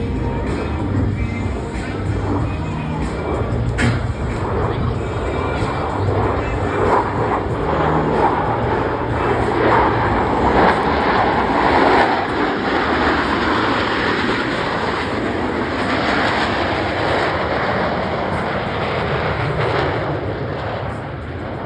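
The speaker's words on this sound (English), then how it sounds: "the precision flying that produces the 18-inch wingtip to canopy separation between these 4 aircraft" Blue Angels jets in a tight four-aircraft formation pass over an air show, producing a loud, sustained broadband roar that holds steady for about twenty seconds.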